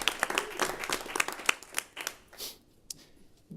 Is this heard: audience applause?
yes